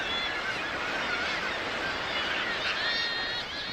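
A crowded kittiwake colony on Shetland sea cliffs, a dense chorus of overlapping shrill, nasal seabird calls layered with constant wind and surf noise, steady and fairly loud throughout.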